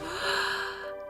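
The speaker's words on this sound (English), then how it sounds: "Gasps all around the room, literally." Several people in a bridal boutique gasp together at a curvy bride's dress, a sustained breathy intake of air with a faint tonal whistle, close and loud, with no talk.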